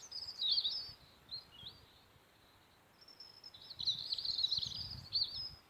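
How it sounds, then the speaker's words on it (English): High, bright birdsong chirps in bursts at moderate distance, with a quiet outdoor hush and faint low rumble between phrases. "Just listening to them birds singing."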